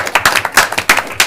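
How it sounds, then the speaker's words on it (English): A few people clap briefly at a city council meeting, roughly a dozen distinct close claps in a quick uneven rhythm. "I just would like to give you a round of applause"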